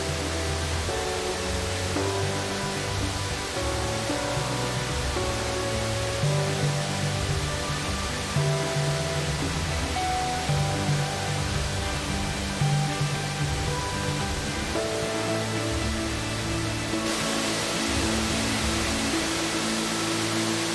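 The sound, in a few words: Diamante waterfall cascading in Costa Rica forest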